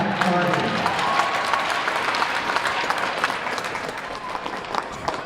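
Large crowd cheering and applauding at a Wednesday-night high school hockey game at Skate 3, Dracut versus Nashoba Tech, a loud continuous roar of clapping and voices with scattered shouts that eases slightly toward the end.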